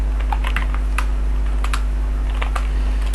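Code being typed on a computer keyboard, with scattered crisp key clicks at an uneven pace over a steady low electrical hum.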